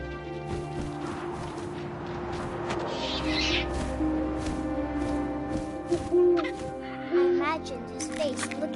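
An owl hoots in the video game What Remains of Edith Finch, its soft tonal calls rising over a layered game soundscape of wind, music and ambience.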